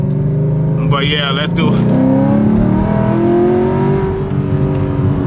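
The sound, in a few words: Chevrolet Camaro car driving past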